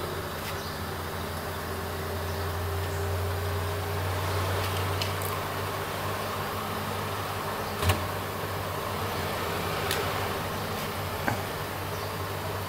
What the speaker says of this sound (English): Spin cycle at last.